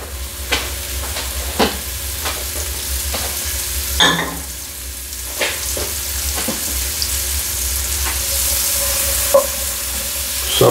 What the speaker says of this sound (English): Now we're gonna drop this 2 tablespoons of butter in there,